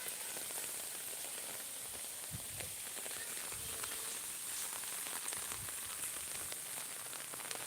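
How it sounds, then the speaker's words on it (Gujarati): Heavy rain pours onto a village rooftop terrace with the wind picking up, a dense, steady hiss of drops with occasional sharper patters and no voices. "સારો વરસાદ વરસી રહ્યો છે"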